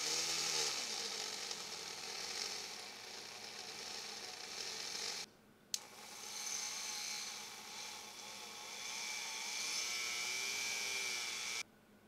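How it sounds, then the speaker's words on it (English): A carbon fiber ring is buffed with blue polishing compound on a rotary polisher, giving a steady, fairly loud motorized whir that drops out twice for a moment before it resumes, with no talk. "we're just gonna do our final step with the blue compound"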